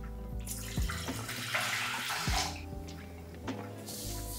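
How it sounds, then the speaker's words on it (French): Hot water is poured into a pot for cooking eggs, a close splashing stream with small clinks and bumps from the vessel and a brief sloshing finish, heard alone. "Là moi je pars sur 1 litre d'eau chaude."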